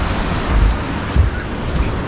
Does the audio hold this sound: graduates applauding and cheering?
no